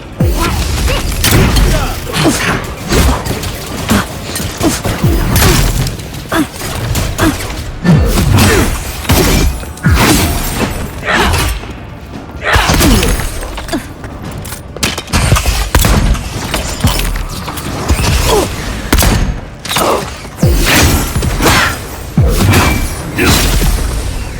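Gunfire, impacts and explosions from combat in the fantasy action game Avowed, loud and dense, with bursts and thuds filling the whole stretch amid game sounds and voices.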